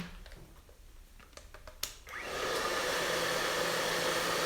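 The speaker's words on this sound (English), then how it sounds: "I'm going to blow dry just this front section." After a few soft handling clicks, a hair dryer switches on and blows steadily on a front section of hair, a loud, constant whooshing roar that continues to the end.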